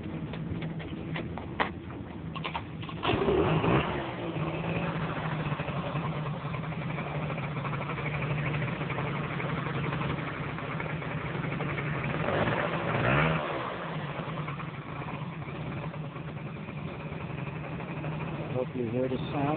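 A small Honda Dio scooter engine fitted with an HHO setup idles and runs steadily, with a couple of brief revs swelling above the continuous hum.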